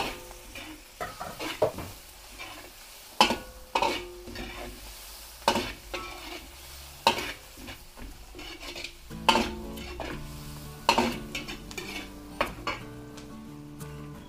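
Chorizo de Bilbao sautéing in a pan, a steady sizzle broken by repeated scrapes and clanks of a utensil stirring against the metal, close and fairly loud with no voices.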